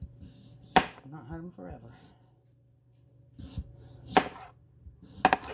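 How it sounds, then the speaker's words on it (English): A knife chops potatoes in half on a cutting board with a few sharp, close knocks spaced seconds apart, while a person talks between the cuts. "I figure if I cut them in half again, they'll cook up better"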